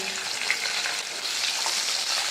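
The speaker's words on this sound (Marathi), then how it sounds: "आता यात हा एक बारीक चिरलेला कांदा घालते." Finely chopped onion fries in hot oil with curry leaves and bay leaves, giving a dense, even hiss of sizzling close by with faint stirring and no talk.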